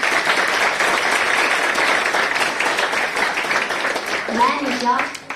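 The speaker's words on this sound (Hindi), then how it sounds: "आप सबसे निवेदन है कि हमारे अतिथियों का जोरदार तालियों से स्वागत करें।" Audience at a talent hunt show applauds to welcome guests, steady dense clapping sustained throughout, with a brief voice emerging near the end.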